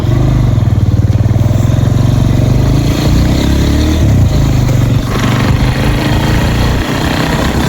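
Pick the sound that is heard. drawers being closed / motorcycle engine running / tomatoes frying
motorcycle engine running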